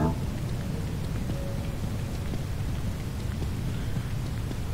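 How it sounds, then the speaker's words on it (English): Steady rain in the video game Don't Starve Together pours down in a continuous broadband hiss with a low rumble beneath, no voices, even and unbroken throughout. "Oh no, it's raining."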